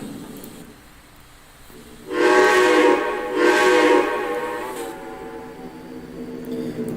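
A Grand Trunk Western U3B 4-8-4 Northern steam locomotive pulling express cars in the Trainz simulator sounds its whistle in two long, loud, harmonic blasts, the second trailing off over a low rumble.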